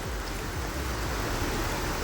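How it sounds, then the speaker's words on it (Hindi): A waterfall in a forest roars as a dense, steady broadband rush of falling water, loud and close for the whole short stretch. "ये सब आवाज़ झरने की ही है"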